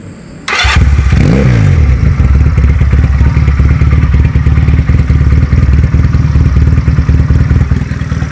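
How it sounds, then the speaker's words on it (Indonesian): A 2019 Benelli Patagonian Eagle 250 carburetor motorcycle engine starts with a brief whir, then settles into a steady, loud, rhythmic idle that chugs on evenly. "Ini suara kalau pas lagi idle ya."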